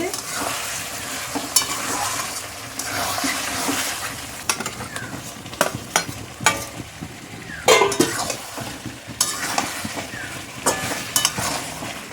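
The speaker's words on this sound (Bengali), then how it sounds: "সব কটা মাছ ভেজে নেবে" Fish frying in a pan in a home kitchen, a steady sizzle running throughout with stirring scrapes and occasional clinks of utensils against cookware.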